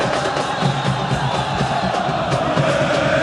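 Football supporters in the stadium stands during the Raja Casablanca versus Wydad Casablanca derby, a dense continuous roar of crowd noise with chanting and shouts, loud and unbroken, with a commentator's voice faintly under it.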